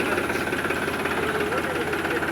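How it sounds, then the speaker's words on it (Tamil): A Powertrac tractor engine runs at a steady idle, with a dense, continuous mechanical chugging and knock, loud and close throughout, no pauses. "இது பவர் ட்ராக் டிராக்டரு."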